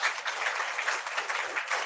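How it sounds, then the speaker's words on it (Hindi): Congregation at a Hindi-language Friday church meeting clapping loudly: a thick, sustained roar of hands with slight pulsing swells, continuous and close, no speech on top. "जोरदार ताली बजाओ परमेश्वर"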